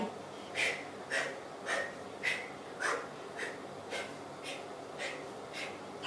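Heavy, rhythmic breaths pushed out through the mouth during an abdominal workout, about ten evenly spaced huffs close to the microphone, steady and moderately loud.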